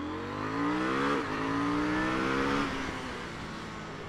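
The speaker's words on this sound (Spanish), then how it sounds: "Y ahí vieron cómo sube revoluciones rapidísimo" A KTM 890 Duke motorcycle engine revs up quickly, rising pitch sweeps climbing and briefly dropping between gears, heard close over steady wind noise without any talk.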